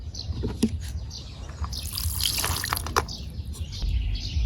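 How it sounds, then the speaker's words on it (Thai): Water poured over Manila tamarind seeds for soaking, with irregular splashing and trickling in a container, fairly close, accompanied by scattered small knocks and drips. "แล้วก็เตรียมน้ำไว้แล้วนะครับ ก็เทลงไปเลยนะครับ"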